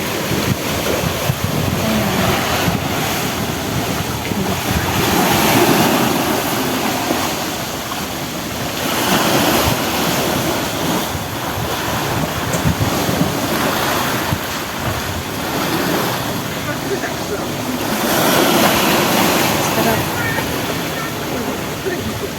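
Ocean waves surge and crash against the shore at the Sai Wan swimming pool in Kennedy Town, Hong Kong, a loud continuous roar swelling in slow irregular waves with wind buffeting the microphone.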